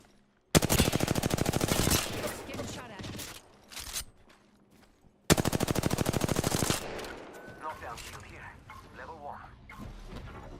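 Rapid automatic gunfire rattles in two long, loud sustained bursts in a multiplayer shooter video game, with a short gap between them, trailing into quieter mechanical clatter and faint voices.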